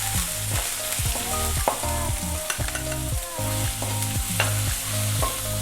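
Loud, steady sizzling of garlic frying in hot oil with ginger and green chillies, with occasional stirring scrapes and taps over a low tonal line.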